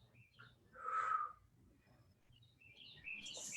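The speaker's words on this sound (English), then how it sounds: "We have some aggressive birds in our neighborhood." Neighbourhood birds calling outdoors, a bright chirp near the middle and higher twittering toward the end, moderately close over low background hum.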